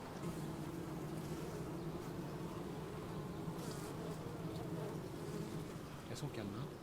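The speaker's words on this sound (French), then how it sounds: "Je vais rapprocher le micro pour mieux les entendre, pour que notre public entende ces petites abeilles." Honeybees buzzing inside a hive, a dense, steady, close-up hum that carries evenly throughout with no talk over it.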